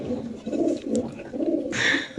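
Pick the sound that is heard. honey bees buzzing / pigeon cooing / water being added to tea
pigeon cooing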